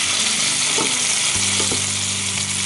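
Chicken pieces seasoned with salt, pepper and curry sizzle steadily as they brown in a hot pan, a loud continuous fry with a couple of brief stirring knocks.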